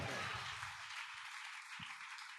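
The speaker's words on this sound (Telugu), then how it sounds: "చప్పట్లు కొడుతూ దేవుని ఘనపరచండి." A church congregation claps together in praise during a Sunday service, a dense, steady wash of hands filling the room with no voices over it.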